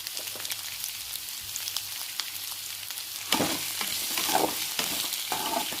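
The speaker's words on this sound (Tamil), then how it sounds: "கடாயில் கொஞ்சம் எண்ணெய் ஊற்றி அதில் கொஞ்சோண்டு தாளிக்க உளுந்து போட்டு வெங்காயம் காஞ்ச மிளகா அதில் போட்டுடணும்" Oil sizzles and crackles steadily in a pan, growing louder midway as onions, dried chilies and urad dal hit the hot oil, close up with no voices.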